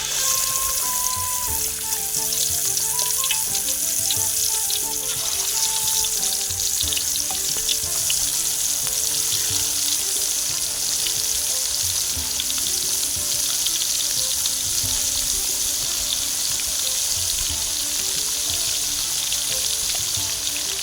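Fish pieces dropped one at a time into well-heated oil, frying with a loud, steady crackling sizzle that runs unbroken throughout, with faint clinks and stirring.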